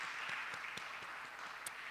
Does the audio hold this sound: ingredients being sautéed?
no